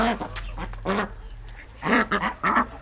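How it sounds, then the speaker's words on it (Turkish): Several ducks quacking in short, loud bursts with brief pauses between, fairly close, over a low steady hum. "Şunlar da ördek bir şey."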